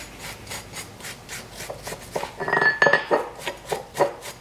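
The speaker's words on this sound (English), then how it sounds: "take your wire brush that we talked about before. Go ahead and clean the inside of the yoke here as well." A wire brush scrubs the inside of a front 4x4 axle shaft yoke on a Dana axle in quick repeated rasping strokes, close and alone, growing louder and scratchier midway.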